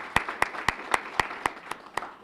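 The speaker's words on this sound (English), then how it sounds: "Let's give Jessica a big round of applause." A small audience at a high school event claps in slow, evenly spaced beats, about eight distinct claps over two seconds, sounding thin and fairly close rather than like full applause.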